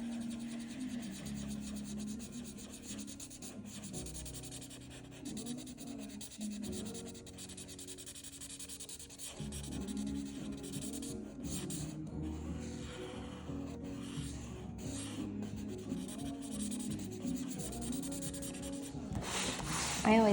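Coloring in on paper makes a continuous, quiet scratchy rubbing that goes on for about twenty seconds, close by, with small shifts in pressure and pace.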